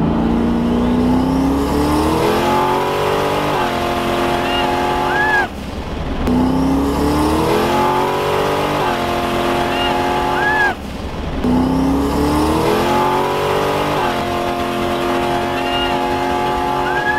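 A 1000hp turbocharged Camaro accelerates hard in second gear after a downshift, its engine roaring loud and close with rising pitch, cut by two brief gear-change dips in a sustained, powerful run.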